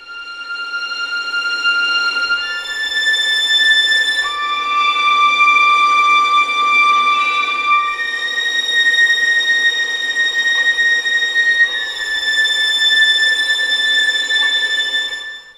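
Sustained, airy high string harmonics from a Spitfire Symphony Orchestra sample library, holding long glassy tones that shift pitch every few seconds, with no other sounds.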